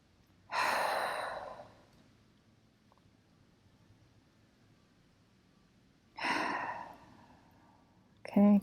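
Heavy breathing during a morning yoga and stretching routine: two long, deep, breathy exhales several seconds apart, close and fairly loud against a quiet room, ending with the start of another breath.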